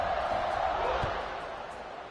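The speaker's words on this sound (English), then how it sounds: "this crowd is buzzing after that last score" Football stadium crowd at a college game buzzing after a score, a dense, steady roar of many voices that fades slightly toward the end.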